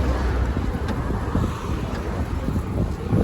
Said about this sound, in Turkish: Çok da rüzgar var yani hava